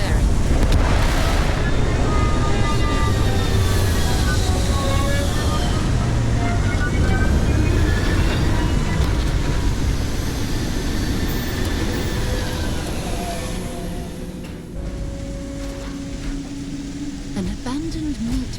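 A spaceship in Starfield sets down with a loud, sustained roar of engines and rushing wind-like thrust, with whining tones sweeping overhead before the rumble gradually eases as it settles.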